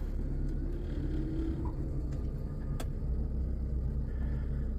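Low steady car engine rumble as a car reverses slowly during parallel parking, with a faint click or tap partway through and no talking.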